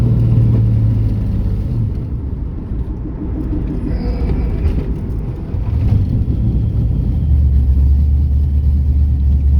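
A loud, deep V8 engine, a 383 LT1 in a performance-built Camaro with exhaust cutouts open, rumbles steadily, a throaty low roar that swells slightly as it revs, close by.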